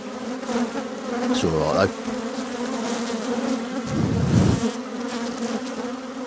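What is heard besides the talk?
agitated honey bees buzzing at an opened hive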